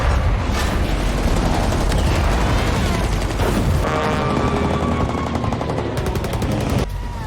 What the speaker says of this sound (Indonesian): suara gemuruh datang dari angkasa di horizon jauh yang langsung menyebar tembakan ke arah armada yang terparkir rapi ini